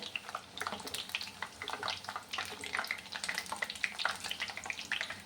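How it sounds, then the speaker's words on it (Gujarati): Moong dal chakli deep frying slowly in oil over low heat, a soft, bubbling fizz with irregular small pops, fairly quiet and alone. "તો આપણે ચકરીને સરસ તળી લઈએ."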